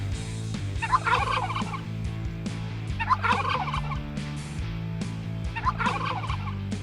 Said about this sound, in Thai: จับไก่งวงแป๊บหนึ่งนะครับทุกคน